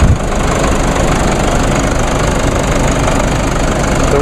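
A Mercedes 2.1-liter four-cylinder twin-turbo diesel idling cold at 23°F, a steady loud clattering drone with knocking that holds unchanged throughout, close up and with no voices.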